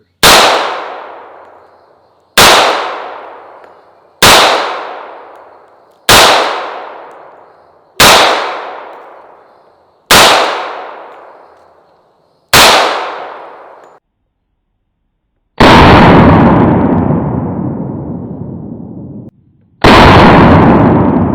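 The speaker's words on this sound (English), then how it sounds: "First time being shot in 100 years." A century-old Springfield 1911 pistol recovered from a WWI battlefield, fired at a range: seven sharp, loud shots spaced about two seconds apart with ringing decays, followed by two longer, heavier bursts of sound.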